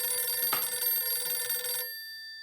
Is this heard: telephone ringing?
yes